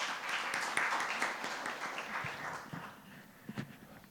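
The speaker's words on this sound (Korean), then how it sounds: "큰 박수로 모시겠습니다." Audience at a religious research presentation claps to welcome a presenter, a dense, moderately loud ovation that gradually thins out and fades, with a few scattered late claps near the end.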